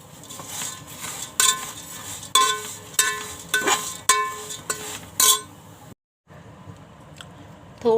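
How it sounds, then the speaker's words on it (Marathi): Flattened rice (poha) is roasted in a little oil in a pan, with a spoon clinking and scraping against the metal in sharp, irregular knocks and a brief silent gap, heard alone without talk. "थोडंसं तेल टाकते आणि अर्धे अर्धे करून पोहे भाजून घेते"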